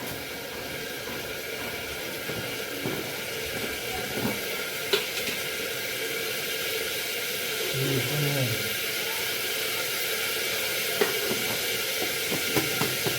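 Mustard seeds hitting hot oil for khichdi give a steady soft sizzle and hiss throughout, with a few faint pops and a voice speaking over the cooking.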